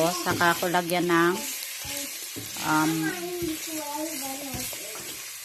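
Garlic and onion frying in a pan give a steady, close sizzle that runs under someone speaking throughout.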